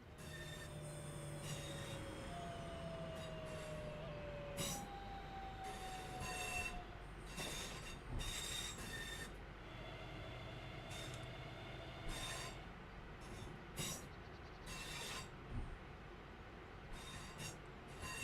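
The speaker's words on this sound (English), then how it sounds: "it's time to bring the train to a stop." Train in the Train Sim World 5 game rolling and braking to a stop, with squealing wheel tones and clanking rail noises over a low steady rumble, fairly quiet with intermittent sharp clicks and knocks.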